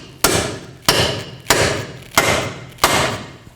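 Five evenly spaced, heavy metallic hammer blows strike a pickle fork wedged into the front lower ball joint of a 2004-10 Toyota Sienna, each sharp hit ringing briefly before the next, close and loud.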